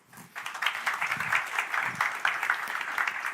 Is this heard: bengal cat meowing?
no